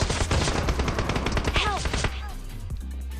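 Rapid bursts of gunfire from the BGMI battle royale game, a fast run of loud, close shots that stops abruptly after about two seconds, followed by quieter game ambience.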